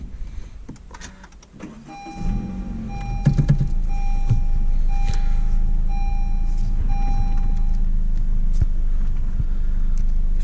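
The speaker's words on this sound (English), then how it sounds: "Let's start up the car." A manual-transmission car engine starts up and settles into a steady idle, its low rumble holding evenly after a brief cranking, with a faint electronic chime tone running above it.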